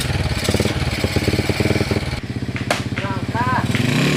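A motorcycle engine running nearby with a rapid pulsing putter, revving unevenly, while people talk and shout over it in the second half.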